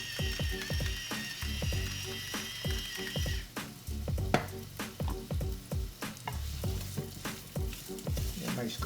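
Chopped onions fry in olive oil with a little salt while being stirred in a pan, a steady close sizzle broken by repeated scraping and clattering strokes from the stirring.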